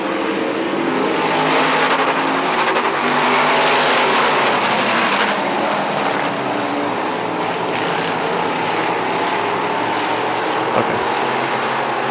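Dirt modified race cars roaring around Airborne Speedway in Plattsburgh, New York, a dense continuous engine drone from several cars at once, loud and sustained, swelling slightly as the pack passes.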